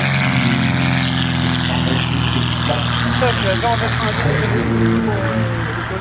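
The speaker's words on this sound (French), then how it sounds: "Et le son du moteur, ce moteur rotatif" A Blériot XI monoplane covered in cotton fabric runs its rotary engine close by at an air show, a loud, steady droning roar with a pulsing buzz that holds throughout.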